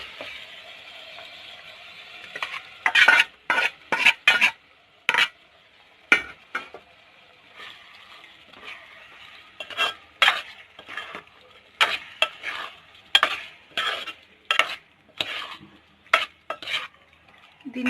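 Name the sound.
marinated mutton pieces frying and stirred with tomatoes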